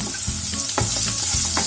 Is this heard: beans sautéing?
yes